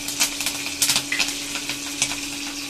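Green chilies sizzle in a hot pan, a steady crackling fry with small spitting pops scattered throughout, close and moderately loud.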